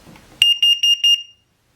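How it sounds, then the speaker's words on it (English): A carbon monoxide detector under test gives four sharp, shrill beeps in quick succession, loud and close, then falls silent. "make sure you got a carbon monoxide detector."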